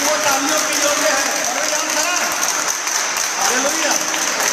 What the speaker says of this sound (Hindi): यीशु मसीह के लिए जोरदार ताली बजा सकते हैं, क्योंकि वो ताली के योग्य है।